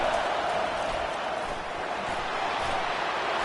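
A football stadium crowd roars in a continuous, dense wash of cheering that swells behind the defense, loud and unbroken for the whole stretch.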